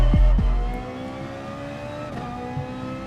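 Race cars led by a Ferrari accelerate hard off the start line in GT Sport, a loud close engine roar with rising revving harmonics, a heavy low thump at the start, then sustained multi-car engine drone.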